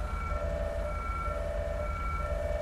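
A wailing ambulance siren in Grand Theft Auto holds steady over a constant low rumble, cycling up and down repeatedly with no voices.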